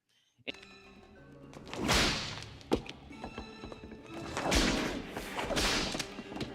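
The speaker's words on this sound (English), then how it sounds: "slinging the whip at mannequins" A whip cracks in Mortal Kombat Annihilation, sharp snaps landing among loud swooshing whooshes and thuds in a busy film soundtrack, close and punchy with no talking.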